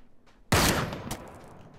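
A single sharp Mosin rifle gunshot in the video game Ring of Elysium, loud and close, with a short decaying echo tail.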